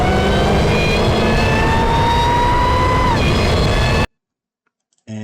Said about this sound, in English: engine acceleration noise that we just imported